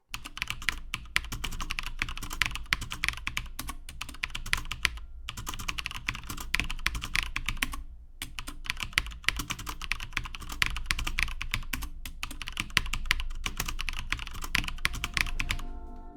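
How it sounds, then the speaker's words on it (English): Rapid typing on a Gigabyte Force K85 mechanical RGB gaming keyboard clatters up close in dense, continuous bursts of key clicks, with two brief pauses. "here's a sound clip of me typing random things with this keyboard."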